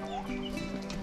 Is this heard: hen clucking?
yes